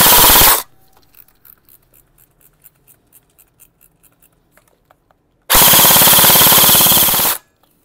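A JG M4A1 folding-stock airsoft rifle fires two loud full-auto bursts, the first brief and the second lasting about two seconds, with faint mechanical clicks and handling noises in the quiet gap between them.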